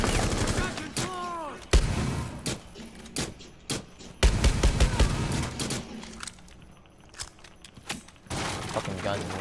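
Rapid bursts of gunfire and sharp single shots from Rainbow Six Siege ring out in uneven clusters, loud and close, with glass-like shattering and voices talking between and over the shots.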